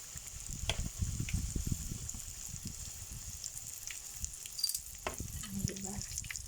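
Milkfish (bangus) fries in hot oil with a steady close crackle and sizzle, broken by a few sharper pops and faint utensil clinks.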